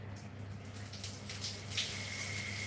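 Water runs from a bathroom tap in a steady, low rushing stream that swells slightly partway through, with no talking.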